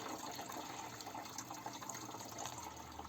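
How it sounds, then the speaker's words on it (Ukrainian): Liquid mixture poured through a small strainer into the tank of a garden sprayer for treating cucumbers, a steady close gush and trickle running continuously without talk. "ось це ситочко, що є в нашому бачкові, е, вливаємо суміш"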